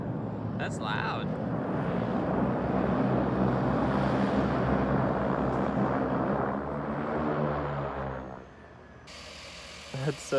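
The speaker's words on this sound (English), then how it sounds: "We also have a seaplane getting ready to land" A seaplane flying in to land near a boat on open water, a loud propeller-engine drone that swells, holds, then fades over about eight seconds, with people talking faintly underneath and a brief clatter at the end.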